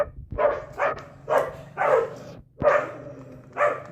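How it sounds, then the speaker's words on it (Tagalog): A dog barks repeatedly near a workbench where a motorcycle front shock is being rebuilt, sharp loud barks coming in irregular bursts of one or two, with no talk over them. "Ang ingay kasi ng aso."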